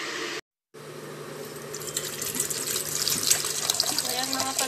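Hot water from a kettle is poured onto bitter gourd leaves, a steady splashing trickle that starts after a brief gap and grows fuller and louder, close to the microphone.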